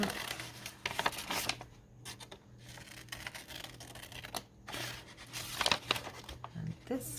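Paper cut with scissors for a handmade envelope: irregular close snips and crisp rustling come in short bursts separated by quieter gaps, with a low steady hum underneath.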